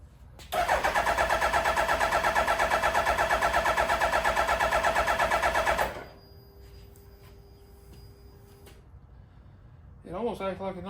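A Suzuki Hayabusa motorcycle, a barn find, is cranked but fails to start: a steady, loud, rapid starter-motor whir lasting about five seconds, then quiet with faint clicks and a brief voice at the end.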